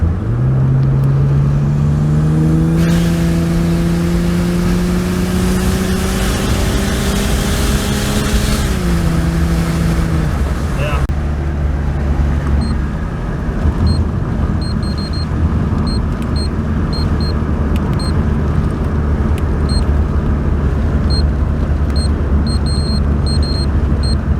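A turbocharged 2JZ engine in a Toyota Aristo climbs in pitch through a long rev, then drops back to a steady, rumbling idle with light whirring and small ticks, loud and close with no speech.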